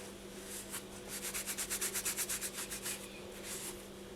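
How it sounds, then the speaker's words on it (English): A cloth rag rubbing and burnishing the surface of a polymer clay trinket dish, a quick run of rhythmic scrubbing strokes, about a dozen close, soft swishes in steady succession over a low hum. "you just go over the surface and you burnish quite thoroughly"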